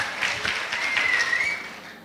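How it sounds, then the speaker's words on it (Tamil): An audience claps to welcome a vocal solo singer onto the stage at a music academy's annual day, a moderate patter of hands heard from some distance with a high sustained tone running through the middle. "ஸ்ருதா அதுல்யாக்கு நல்ல ஒரு பலத்த கைத்தட்டலுடன் மேடைக்கு."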